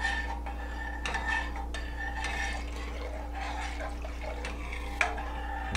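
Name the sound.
cornstarch poured into chile con queso soup, stirred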